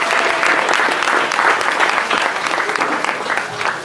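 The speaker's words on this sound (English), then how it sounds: "Y'all give them a round of applause." Audience applause at a press conference held at a venue between the lakes, with a crowd clapping steadily and densely throughout, close and loud, with no break in the sound.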